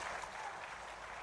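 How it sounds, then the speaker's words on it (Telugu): A public gathering breaks into brief, even applause, a dense patter of many hands heard at a distance and fairly faint. "మీరు కూడా గట్టిగా చప్పట్లు కొట్టి ఆశీర్వదించండి"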